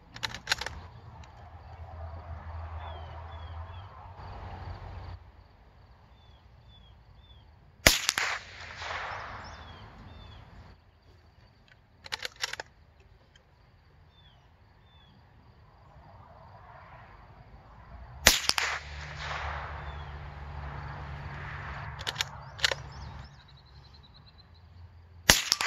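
A Ruger M77/22 bolt-action rifle fires a handful of separate sharp shots spaced several seconds apart at an outdoor range, each crack followed by a short decay over low background rumble, with no talking.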